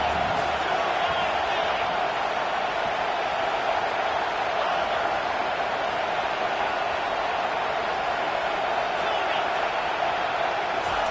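A stadium crowd in an NCAA football video game roars as a steady, dense wash of cheering noise that holds at a loud, even level throughout, with no distinct voices standing out.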